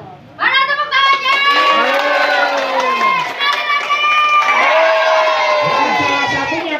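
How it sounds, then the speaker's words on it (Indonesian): An audience claps and cheers loudly together, with shouting voices and children's cries over steady applause that continues for several seconds. "Mana tepuk tangannya?"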